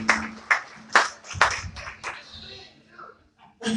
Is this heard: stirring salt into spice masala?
no